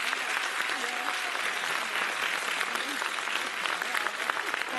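Warm, steady applause from an audience welcoming the school headmistress at a Mother's Day event, continuous and fairly loud throughout.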